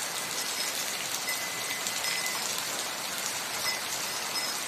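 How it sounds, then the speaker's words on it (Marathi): Heavy monsoon rain pours down on a village during the month of Ashadh, a dense, steady, loud hiss of falling water that continues without a break. "आज जरा मोठाच पाऊस आला।"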